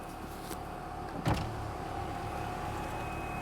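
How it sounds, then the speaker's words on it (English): An electric power window winding down on a Toyota RAV4 in a shop, a steady motor whir under a constant background hum, with a brief thump partway through. "so let's roll down the window"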